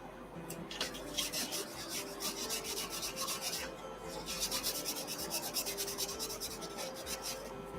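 Repeated scratchy rubbing strokes of a paper towel wiping a wooden biscuit-joiner pumpkin, close and rhythmic, with a quiet steady hum underneath.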